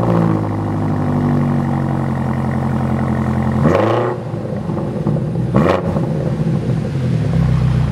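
A BMW M5 CS engine with an Akrapovic exhaust idles with a deep, burbling exhaust, then revs sharply twice, each rev rising to a loud snarl before settling back.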